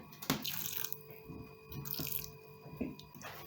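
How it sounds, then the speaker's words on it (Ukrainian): Water poured from a tap or jug into a bowl of minced meat mixed with diced onion, garlic, egg and herbs, giving a short trickling, splashing burst near the start with faint drips after. "Вливаємо трохи води."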